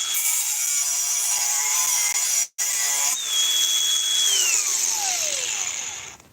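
A Flex angle grinder runs at high speed with a steady, piercing high-pitched whine; after a brief cutoff it restarts and then winds down with a falling pitch as it slows without a quick stop.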